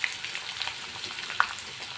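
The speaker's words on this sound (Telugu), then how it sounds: "ఇప్పుడు వచ్చేసి ఆనియన్స్ వేసుకుంటున్నాను" Chopped onions frying in hot oil for an onion gravy curry, a steady close sizzle and crackle with small pops throughout, no talking.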